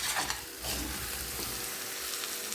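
Mango and ginger pieces sizzle steadily in hot oil in a pan for pickle, a continuous close frying hiss with occasional stirring scrapes.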